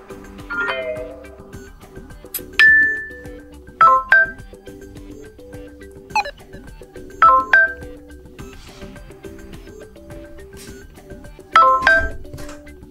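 A series of short electronic ringtone tones and chimes from a Samsung Galaxy M01 Core phone, several separate bursts with pauses between them, fairly clear over a quiet background hum.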